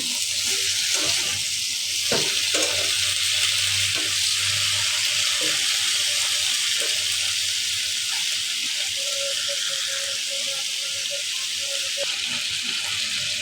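Steady oily sizzling of a potato, Malabar spinach and dried fish curry frying in a pan, with occasional scraping and stirring clatter, continuous and close.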